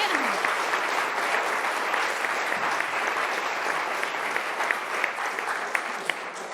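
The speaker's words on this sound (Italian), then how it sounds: "Un applauso per Noemi Zolezzi." An audience applauding steadily for Noemi Zolezzi, a young judo athlete, at a televised sports program, with dense even clapping throughout and a voice briefly heard at the start.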